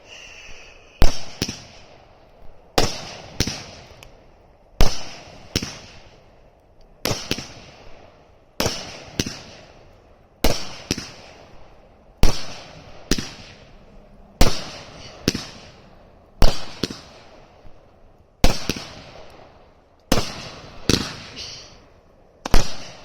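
Brightstar Whiskey Business 350g 20-shot firework cake firing outdoors: a steady series of sharp launch thumps, each followed by loud crackling bursts, repeating about every two seconds with brief gaps, close and loud, no talking.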